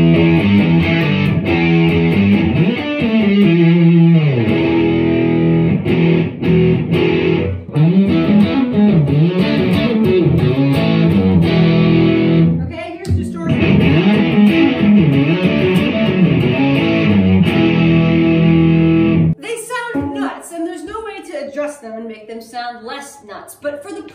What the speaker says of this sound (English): Okay, this is distortion.